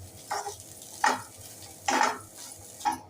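Ginger and garlic sautéing in a pan for egg curry, stirred in four separate scrapes with a soft sizzle underneath, each stroke close and moderately loud against quieter gaps.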